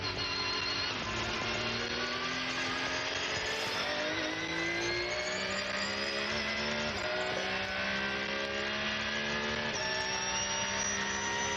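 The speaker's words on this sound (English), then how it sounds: "Just listening to that Porsche engine purring across the line." A Porsche race car engine holds a steady, continuous high-revving drone during qualifying at the Nürburgring 24 Hours, pitch stepping up through gear changes, loud and sustained with no voices.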